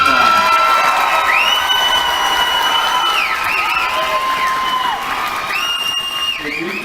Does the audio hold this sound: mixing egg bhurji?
no